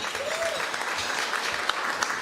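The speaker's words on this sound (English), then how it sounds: "Give yourselves a clap." Banquet guests at an annual awards dinner clap for themselves, a steady wash of many hands from a large room, with a faint brief vocal tone near the start.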